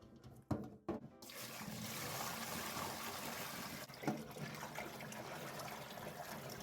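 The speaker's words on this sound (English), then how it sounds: "you want to drain off all of that hot water so that you can really shock with the cold water" Hot water is drained from a pot of freshly cooked crab, giving a steady, close pouring and trickling wash of liquid with a couple of clunks from the pot early on.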